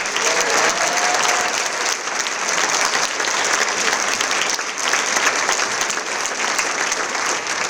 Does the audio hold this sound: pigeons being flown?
no